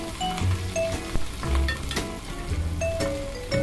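Ginger and onion fry in a hot pan with a steady close sizzle, broken by stirring knocks and scrapes, loud and without talk.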